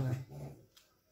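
Dogs whimper and whine close by for about a second, the sound fading out quickly, with some background murmur underneath.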